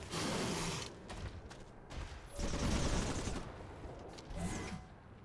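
Gunfire from a unit attacking an alien worm in the strategy game Civilization: Beyond Earth, heard as several loud, dense bursts of shots and booms, with no talking.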